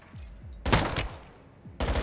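Gunfire from a shooter video game, two sharp bursts of rapid shots about a second apart, loud and close, with lighter clicks and thuds between them.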